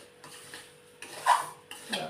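A spoon scrapes and stirs semolina roasting in a pan for upma in repeated rough strokes, close by, with a light metallic rasp and no talking.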